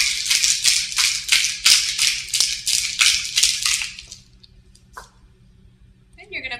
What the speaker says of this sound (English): you're going to close your martini shaker and you're going to give it a nice shake